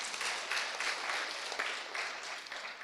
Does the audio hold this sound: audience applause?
yes